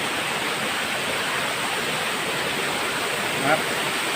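Steady rushing water of the Pho Hin Dat waterfall in Thailand pours continuously, a broad hiss, with a faint brief voice near the end.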